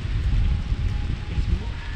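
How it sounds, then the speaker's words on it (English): Strong wind sweeps along the Canal du Midi at Narbonne, a steady low roar with slight gusting, fairly quiet and continuous with no talking. "It is extremely windy."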